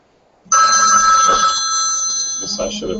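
A phone rings loudly and close after a brief quiet moment, a bright repeating electronic ringtone with a voice speaking faintly beneath it.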